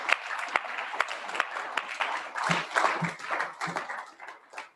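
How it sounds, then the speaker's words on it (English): An audience at a candidates forum applauds in a dense, fairly soft burst of clapping that tapers off toward the end, with a few brief voices mixed in. "Can we give them a round of applause?"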